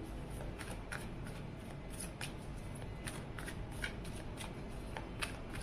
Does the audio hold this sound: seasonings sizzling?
no